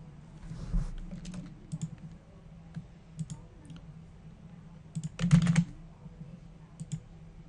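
Keys clatter on a computer keyboard in short irregular bursts, soft and close, with a louder flurry of typing near the end and quiet gaps between.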